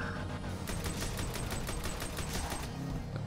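Rapid rocket and weapon fire in a GTA 5 vehicle combat match, a dense barrage of sharp bursts over a constant roar of engines and explosions, loud and continuous with no talking.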